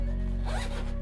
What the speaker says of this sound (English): I can unzip the unit and turn my phone over like so and zip it back up